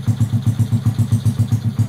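A small 50cc moped engine idles cold on a chilly day, its steady, rapid putter pulsing about seven times a second, close and fairly loud with no one speaking.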